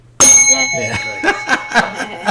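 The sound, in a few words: bell rung at club meeting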